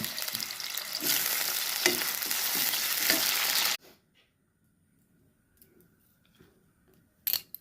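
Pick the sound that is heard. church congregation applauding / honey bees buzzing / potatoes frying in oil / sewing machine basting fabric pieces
potatoes frying in oil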